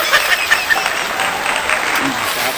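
Hands clapping in a steady, dense patter that runs the whole stretch, bright and fairly close, with a voice faintly audible beneath the claps.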